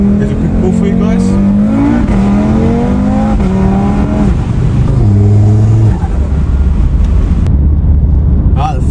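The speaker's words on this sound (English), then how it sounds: "that 5-cylinder noise. It just sounds so nice." An Audi RS3 five-cylinder engine revs hard and accelerates through several gears, its loud warbling note rising and dropping at each shift, close by.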